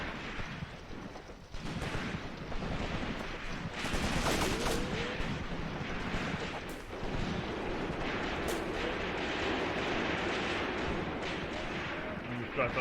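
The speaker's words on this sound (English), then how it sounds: "The artillery is still preparing" Artillery and small-arms fire across a World War II battlefield in Graviteam Tactics, a continuous rumbling din of distant booms and crackling shots, with a heavier swell in the middle and no clear speech.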